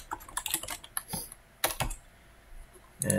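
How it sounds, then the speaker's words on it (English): Someone types a short Python program on a computer keyboard, producing quick bursts of crisp key clicks with brief pauses between them, close and clear. "you can literally just start typing"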